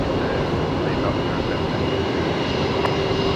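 A Boeing 747 at Brisbane Airport produces a loud, steady jet-engine roar that fills the whole clip without letting up, while voices talk over it.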